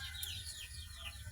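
Farm chickens clucking, a faint, brief burst of soft calls over steady background hum.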